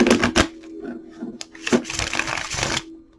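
A deck of tarot cards being shuffled, with quick riffling and flicking bursts and several soft taps, close and fairly quiet, and no voice.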